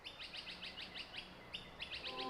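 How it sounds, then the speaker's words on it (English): Birds chirp in a natural setting, sending quick runs of high, bright tweets in short bursts, with a brief pause in the middle and then a fresh burst, all at moderate distance over soft background ambience. "Could be the sound of the creek or the birds."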